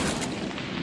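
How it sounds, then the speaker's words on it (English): A gunshot in the tactical shooter game Valorant, fired from a gun. The report sounds as a loud, dense broadband burst with a rumbling, sustained tail that fills the short moment, with no talking. "I'm going to try and shoot this guy from OBS on my other computer."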